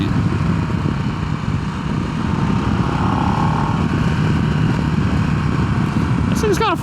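A Harley-Davidson Nightster Special motorcycle on a cool spring ride gives a steady, loud engine drone mixed with rushing wind, continuous and close throughout.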